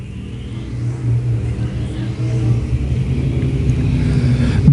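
B-Mod dirt track race cars roar into a turn during a Kansas City race, their engines a loud, steady, rumbling drone that swells slightly as the pack approaches.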